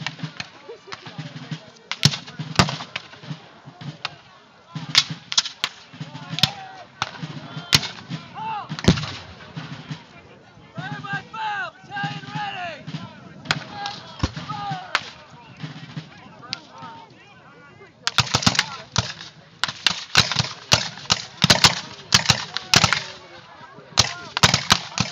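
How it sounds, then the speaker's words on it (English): Civil War reenactment battle at Belmont with Confederate artillery from Columbus, Kentucky: repeated sharp cannon booms and scattered gunfire cracks over a steady outdoor wash, with a dense burst of volleys near the end. "now the Confederate artillery over in Columbus, Kentucky is able to start targeting and firing as well."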